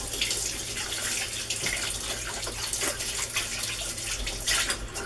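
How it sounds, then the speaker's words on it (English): Cold water runs steadily from a kitchen tap, a continuous splashing gush close by with no speech. "Cold water's going out there, so cold."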